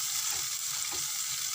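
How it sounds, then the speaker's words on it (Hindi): A tomato and onion paste fries in a pan with a steady, even sizzle that continues throughout, with faint stirring at close range. "अब इस पेस्ट को हम अच्छे से पहले भून लेंगे"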